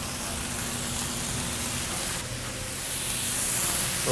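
Steam hisses over vegetables on a restaurant grill as cabbage cooks in a little oil, a steady broadband sizzle that stays close and even throughout, swelling slightly near the end.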